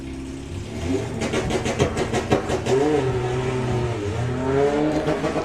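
Drag racing cars at the Santa Pod start line, a family VW Beetle and a VW Passat, their engines revving and burbling loudly with rising and falling pitch, close and continuous with no talk.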